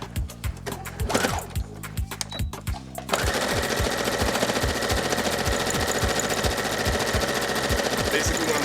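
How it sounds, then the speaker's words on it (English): A regular sewing machine hems the end of a Haiti flag, its needle pounding in a fast, even rhythm with a brief pause before it resumes and runs steadily. "This is just a regular sewing machine, which is good for straight stitching."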